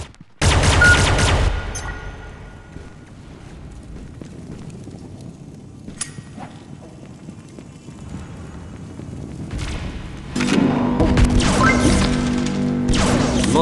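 A clockwork cannon in a video game fires repeatedly, with dense bursts of sharp crashing blasts at the start and again toward the end, and quieter scattered impacts in between.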